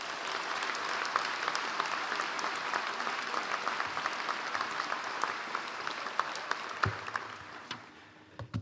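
Sustained audience applause at a university School of Education keynote event greets the incoming speaker, dense steady clapping from a large crowd that holds for several seconds before thinning out at the end.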